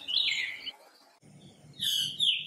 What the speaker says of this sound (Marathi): गुलमोहर सोनमोहर काटेरीसावर फुलांनी बहरले की हा सुंदर बुलबुल मंजूळ स्वरांची आतिषबाजी करीत या फुलांवर दिसू लागतो.